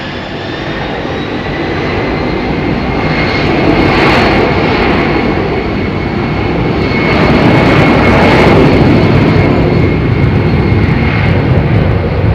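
Aircraft engine roaring at London Heathrow Airport, a loud continuous jet rumble that swells and holds steady throughout, with no talking.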